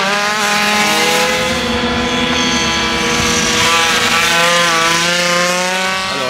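An MBK racing moped replica built on a 51 Club frame, modelled on the 1986 CF G3 factory machine, runs on a track with a high, buzzing two-stroke wail that holds steady and loud throughout.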